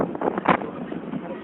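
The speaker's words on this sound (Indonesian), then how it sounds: "Anginnya cukup keras." Strong wind near Mount Bromo buffets the microphone in a continuous rough roar, with a heavier gust midway, while a person talks underneath.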